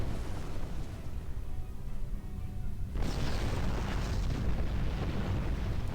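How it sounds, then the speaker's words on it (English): A missile explosion in the space game Star Trek Online, a dull rumbling roar that swells into a brighter, louder blast halfway through and keeps rumbling to the end, with no voices. "Let's give it a big missile."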